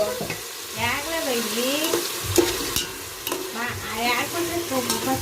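Onions and tomatoes for chicken biryani are stirred while frying, a loud, close sizzle broken by repeated scraping and clanking of the spoon against the pan, with a voice talking over it.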